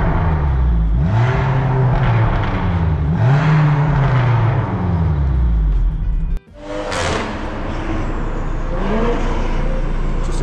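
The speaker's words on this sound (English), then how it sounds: "Just a typical Supra, coming to the same spot I was just at." A Toyota Supra drives on a private racing track, its engine droning loudly with rising and falling revs, briefly cutting out before pulling hard again close by.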